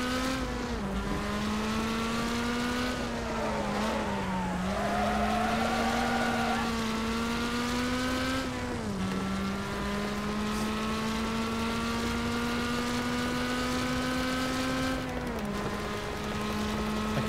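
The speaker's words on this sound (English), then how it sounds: "I can barely hear you because my car is so loud" A loud racing car engine from the Wreckfest video game drones steadily, its pitch dipping and climbing as it shifts and accelerates, running without pause throughout.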